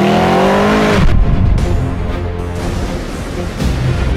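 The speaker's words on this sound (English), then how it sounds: "This impressive luxury machine delivers the driving dynamics and the exhaust note of a high-performance sports car." 2015 Mercedes S63 AMG Coupe engine and exhaust on a track, rising through the revs, then a shift and a hard, loud roar as it keeps accelerating, heard close and alone.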